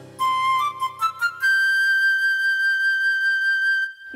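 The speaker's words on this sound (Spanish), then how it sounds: "es una flauta." A flute plays a few quick notes, then holds one long, steady high tone that rings alone before cutting off.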